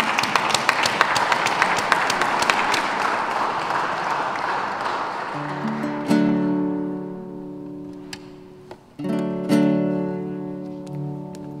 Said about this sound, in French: j'aimerais vraiment qu'on applaudisse très très fort pour ce grand homme.